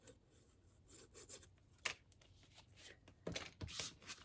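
Paper is burnished onto a Christmas mini album page by hand, making faint, quick rubbing and scraping strokes in short uneven bursts, close up and quiet.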